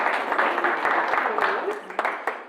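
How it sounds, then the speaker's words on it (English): A seminar audience applauds a volunteer at an Optimal Health Seminar: a moderate, even spread of many hands clapping, with someone talking over it and a few sharper individual claps standing out near the end. "everyone, let's give her a round of applause for coming up and being a trooper for that."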